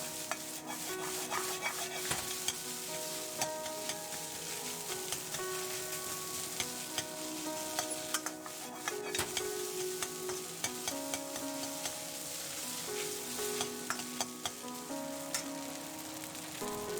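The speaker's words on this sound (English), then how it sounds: "Now keep stirring and flipping till the rice grains are fairly separate." Rice is stir-fried in lard with a ladle for ramen-house-style chahan. Steady sizzling runs throughout, with the ladle's repeated metallic scrapes and taps against the pan in a brisk, irregular rhythm.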